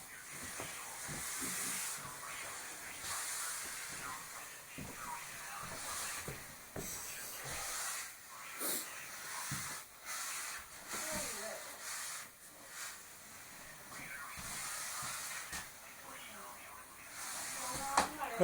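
A Dupray NEAT vapor steamer runs over a sofa, its steady hiss of 275-degree steam rising and falling as the tool keeps moving, with people talking nearby over the spray.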